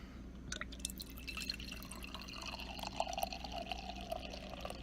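Homebrew mango milkshake IPA runs from a keg tap into a glass, a faint trickling and dripping pour over low background hum, with occasional soft clinks.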